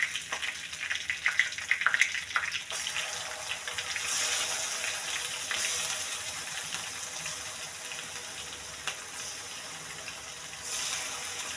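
Chicken frying in a pan of oil makes a continuous hissing sizzle with a few sharper pops early on. It carries on alone, with no voices.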